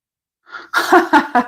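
A quick breathy intake followed by a sharp, explosive sneeze burst and a couple of short follow-up bursts, close and fairly loud.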